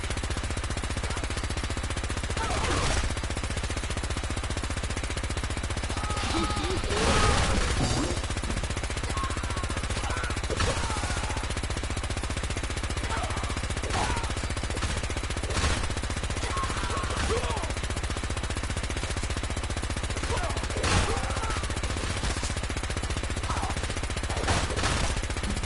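A modded weapon in the video game Fallout 4 fires continuously, a dense stream of rapid shots in long bursts with short breaks, loud and steady.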